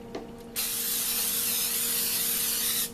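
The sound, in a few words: cooking spray sprayed onto a brownie pan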